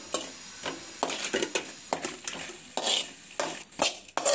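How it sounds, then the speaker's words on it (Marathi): Ground cashews, almonds, pistachios, walnuts and poppy seeds are dry-roasted in a pan, with repeated scraping and stirring strokes of a spatula, rhythmic clinks against the metal over a soft sizzle. "तर आपण हे बारीक केलेलं भाजून घेऊया"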